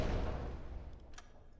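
A torpedo fired from tube 5 in the UBOAT submarine video game: a deep muffled launch thump that rumbles and fades, followed by a faint brief mechanical clank.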